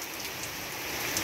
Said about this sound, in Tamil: மழை செம்ம ஸ்பீடாக பெய்யுது